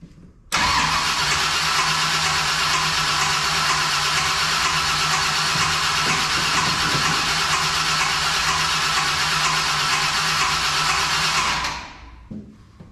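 A Ford Ranchero engine cranks continuously with a weak fuel pump, a loud, steady starter churn running about eleven seconds without catching before cutting off.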